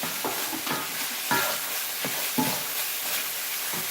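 Mushrooms and canned corn are stirred into a turkey pot pie filling in a pan, giving a soft sizzle with a steady series of scraping stir strokes, close and alone.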